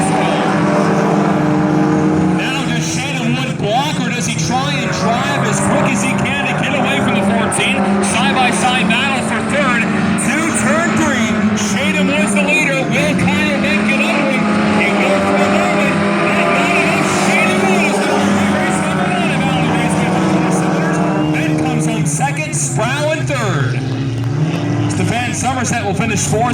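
4-cylinder class race cars roar around Valley Raceway in a heat race, with a dense, continuous drone of engines rising and falling as they pass, and an announcer talking throughout.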